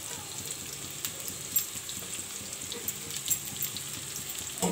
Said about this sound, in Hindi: पूरा हाई फ्लेम आपको फ्राई कर